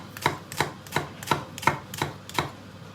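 A knife chops onions on a board for a lamb korma, seven crisp, evenly spaced cuts close to the microphone with no talking.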